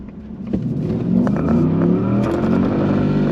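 A Ford F-150 with a 5.0 Coyote V8 and an S&B cold air intake accelerating hard from inside the cab, its engine note rising steadily in pitch and loudness with a deep, rumbling exhaust and some rattling.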